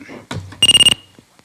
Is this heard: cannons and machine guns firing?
no